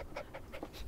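A dog pants in quick, rhythmic breaths in the farming video game Farm Together, short and fairly faint, with no voices.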